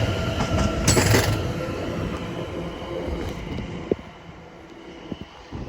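A train pulls out of Shenfield station on the Great Eastern Main Line, a steady rolling rumble with wheel clatter and a few sharp clanks and squeals as it moves off, close and loud with faint voices in the background.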